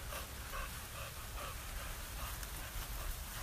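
Steady rain falls outdoors beside a backyard pond, a continuous soft patter of drops with a low rumbling wash underneath, even and unbroken with no voices.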